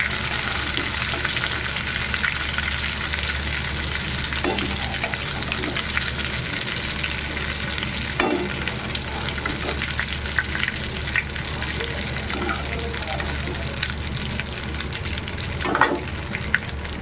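Eggplant fries in hot oil, a steady dense sizzle with occasional sharp pops and crackles and faint stirring, continuous and close throughout.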